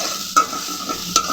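Pointed gourd fries in a pan with a steady hiss, broken by two sharp scraping strokes of a spoon stirring the pieces.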